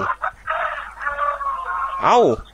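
A chicken at Wat Fai Hin temple in Chiang Mai gives one short, rising-and-falling call near the end, following a stretch of indistinct talking and background murmur.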